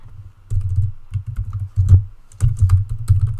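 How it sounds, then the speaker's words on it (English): Computer keyboard keys clicking in irregular bursts of typing with short pauses between, close and fairly clear, with no voices over it. "you would just type in standard shipping"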